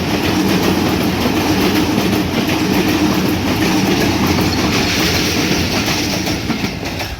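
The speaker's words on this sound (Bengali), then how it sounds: "+4 সিরিজের লোকোমোটিভ নিয়ে গোবরা থেকে ছেড়ে আসা রাজশাহীগামী টুঙ্গিপাড়া এক্সপ্রেস এই মুহূর্তে রাজশাহী অভিমুখে ছুটে যাচ্ছে" Tungipara Express passenger train, pulled by a series locomotive and bound for Rajshahi from Gobra, thunders past close by in Bangladesh, with steady loud rumbling and rattling wheels that keep up the whole time and ease slightly at the end.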